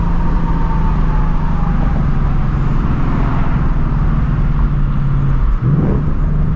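A 2024 Ford Mustang GT V8 with loud exhaust driving at night, a steady, heavy engine drone and rumble with road noise, held at a constant level with a brief dip near the end, no voices.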